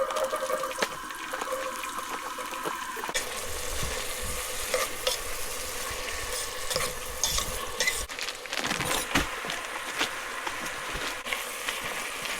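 Chili cooking in a pot inside a hot tent on a canoe camping trip, with steady close sizzling and repeated scraping stirs of a spoon running throughout, no voices.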